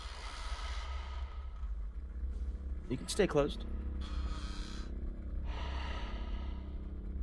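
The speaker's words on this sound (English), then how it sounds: "The breathing's like right here." An eerie breathing sound in a video game city, with soft gasping breaths and sighs over a low, steady hum, plus a brief sharp vocal burst midway and talk throughout.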